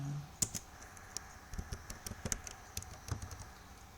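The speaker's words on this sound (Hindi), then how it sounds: "अब इसमें एक वर्ड टाइप करता हूँ" A word typed on a computer keyboard, a quick irregular run of soft, close key clicks over about four seconds, fairly quiet with no talking.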